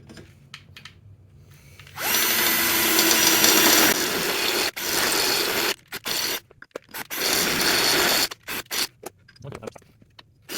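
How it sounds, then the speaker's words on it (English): Power drill boring out a hole to take a larger bolt on a DIY sim racing surge platform build, loud whining bursts starting after a quiet moment, stopping and restarting in several short stretches near the end. "now we need to drill out this hole in order to accept this bigger bolt"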